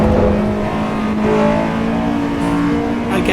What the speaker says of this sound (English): I find that the S2000 audio is the same as what mine sounded